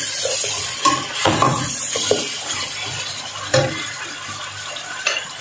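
Chicken and turnips are stirred and fried in a pan, with scattered clinks of a utensil against the metal over a soft sizzle, and no talking.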